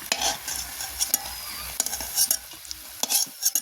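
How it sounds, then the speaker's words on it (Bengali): Fish roe fritters frying in hot oil with a steady sizzle, punctuated by close metallic scrapes and clinks of a utensil lifting them out of the pan in quick irregular strokes. "লাল লাল করে ভেজে দিয়েছি এবার আমি তুলে নেব"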